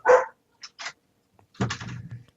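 Dogs bark nearby in short sharp bursts, a loud opening bark followed by a few quieter yaps and then a longer cluster of barking, with no talk over them.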